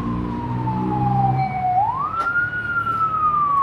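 A single emergency vehicle siren on a Jakarta street glides down in pitch, then sweeps back up and holds a steady wail, loud and clear over low traffic rumble.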